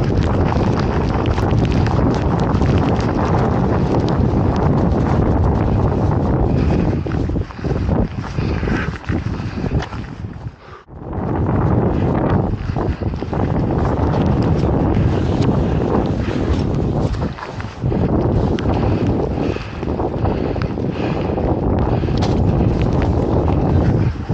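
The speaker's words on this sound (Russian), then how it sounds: "Может, прям поднялся конкретный ветер." Strong wind near a glacier in the mountains of North Ossetia roaring steadily into the microphone, a loud rushing blast that drops out briefly once before gusting back.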